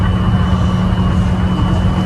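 An airplane passing overhead near a river lock outside Frankfurt early in the morning, a steady low engine roar with a faint high whine, no voices.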